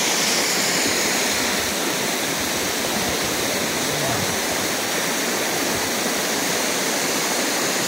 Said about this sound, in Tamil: மேலே ஃபால்ஸை பாருங்கள் எவ்வளோ அருமையாக தண்ணி குதிக்குது.